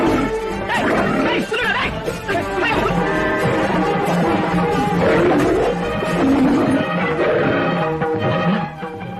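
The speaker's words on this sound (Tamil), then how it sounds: "புலி இழுத்துட்டு போச்சுன்னா ஐயப்பன் காப்பாத்திட்டானா?" A tiger roars in a dense, loud scene, heavy growling layered with crashes and other sound effects throughout, with no clear speech.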